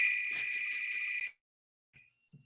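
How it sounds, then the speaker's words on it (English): An electronic telephone rings steadily in the background for just over a second and then stops, leaving near silence with a faint second chirp and a few small knocks. "So we got the phone in the background there."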